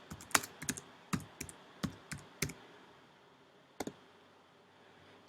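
Typing on a computer keyboard, a handful of crisp, close key clicks in an uneven burst, then a pause and two more taps, quiet room behind.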